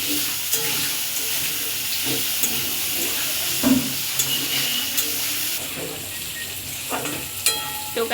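Onion, curry leaves and nigella seeds frying in oil, a continuous close sizzle broken by stirring scrapes and knocks, with no talking.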